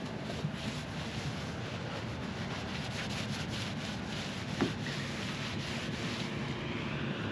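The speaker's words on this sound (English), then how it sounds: "Let's wipe this off and take a look." Hand wiping and scrubbing of paint transfer off a car's accident-damaged body panel: a steady, close, continuous broadband rubbing with one brief louder scrape midway.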